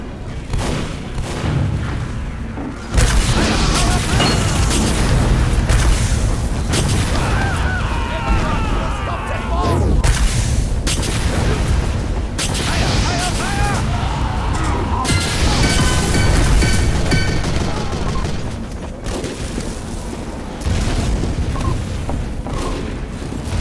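Tank cannon booms and gunfire in a loud, sustained battle, with heavy blasts, crashes and rattling shots running almost without pause, and voices shouting at times within the din.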